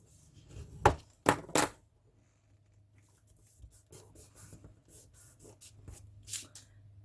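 Paper on a mini album made in a pizza box being burnished: a few sharp rubbing strokes up front, then softer scattered scraping and brushing sounds, close and quiet, with no voices.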